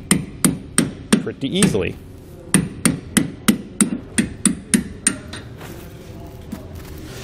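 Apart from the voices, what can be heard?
hammering bolt to drive out old trailer suspension bushings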